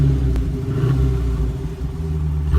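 A Dodge Challenger SRT 392 with a 6-speed manual, mid mufflers still fitted, runs just after startup with a steady, loud, deep low rumble close by and little change in pitch.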